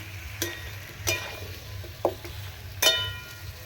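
Pumpkin chunks stir-fried in a pan for a vegetarian kumro chhokka, with a low steady sizzle under four distinct scraping stirs and clinks of a spoon against metal.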